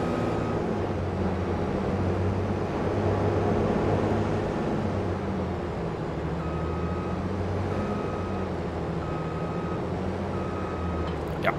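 A tractor with a trailer maneuvering and reversing in Farming Simulator 22, its steady engine drone under a repeated reversing beep, no voices.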